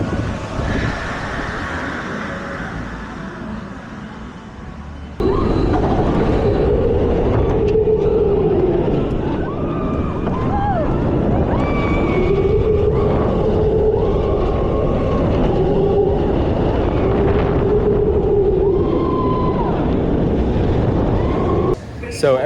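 The Icebreaker roller coaster train at SeaWorld Orlando rumbles and roars along its track for most of the clip, with rattling and wheel squeal, loud and close, after a quieter start.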